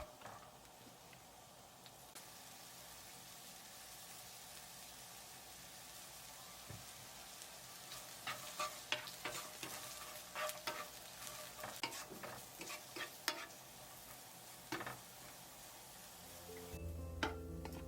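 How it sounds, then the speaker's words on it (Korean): Carrots stir-fry in an oiled pan with a pinch of salt for japchae, giving a faint, even sizzle that turns into busier scraping and tossing toward the end, with no voices. "당근도 마찬가지로 팬에 기름을 두르고 당근을 넣어서 소금 한 꼬집 넣고 볶아주세요."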